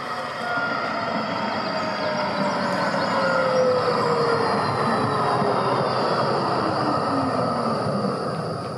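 A tram runs on the new 2022 Lichtwiesenbahn line in Darmstadt, on its own grassed track bed. A steady, fairly loud rolling rumble carries a faint rising whine throughout, with no talking.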